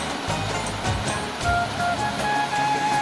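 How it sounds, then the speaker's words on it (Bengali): Waterfall water rushes down a stream at Devatakhum in Bandarban, a loud continuous roar that surges slightly, with no voices. "এই যে হচ্ছে ঝর্নার পানি খুম থেকে আসতেছে পানি ঝর্নার পানি"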